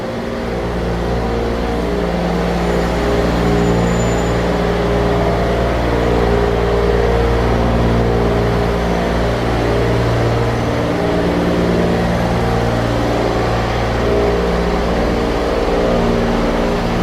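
Steady, loud low engine rumble from a truck on a Toronto street on an overcast afternoon, a sustained drone filling the whole stretch with no voices.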